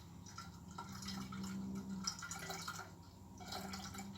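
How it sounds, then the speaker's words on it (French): Plant milk drips and trickles through a strainer cloth, soft watery patters with a faint continuous trickle, quiet and close. "on passe le lait végétal à travers la passoire"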